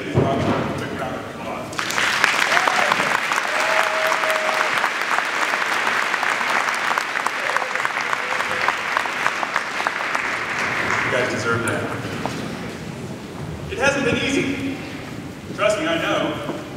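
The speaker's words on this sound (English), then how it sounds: "Let's give Robert a quick round of applause." An audience at a graduation-style ceremony breaks into sustained applause for a few seconds and keeps clapping for a long stretch. It fades near the end, and short bursts of clapping return, with some voices mixed in.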